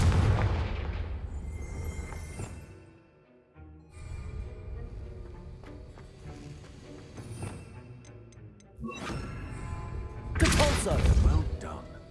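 Confringo blasting spell explosions in Hogwarts Legacy, several heavy booming bursts with crackling tails, the loudest near the start and a strong blast toward the end, with spoken game dialogue mixed in.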